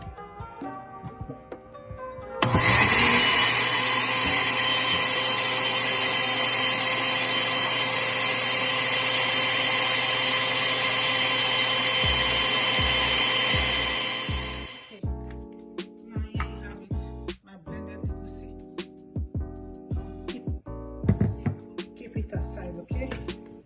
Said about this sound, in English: go ahead and blend my egusi